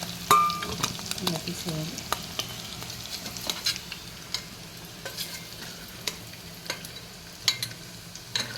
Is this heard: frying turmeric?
yes